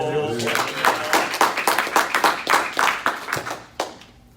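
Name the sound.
applause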